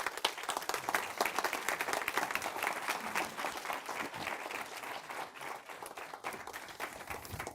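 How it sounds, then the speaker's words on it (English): Audience applause at a panel event on refugees and development as panelists take their seats on stage, a dense steady wash of many hands clapping at moderate distance, holding fairly even throughout. "ladies and gentlemen, please give them a round of applause"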